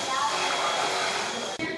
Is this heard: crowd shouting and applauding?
no